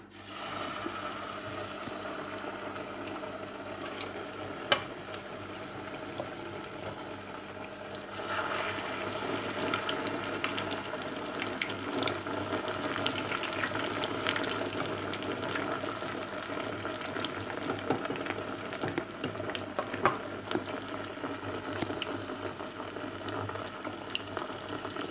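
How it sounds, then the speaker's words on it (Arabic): Breaded chicken escalope frying in plenty of hot oil, making a continuous bubbling sizzle that grows a little busier partway through, with occasional light pops and no talking. "راح تقلي معاكم سكالوب"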